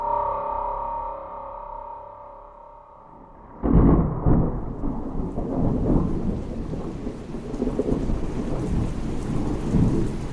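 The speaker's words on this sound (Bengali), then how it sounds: "সেদিনের দুপুরের পর থেকে বজ্রপাত সহ তুমুল বৃষ্টি নামল।" Heavy rain falls steadily, then a sudden loud thunderclap breaks in and rolls on with rumbling thunder over a dense, continuous downpour.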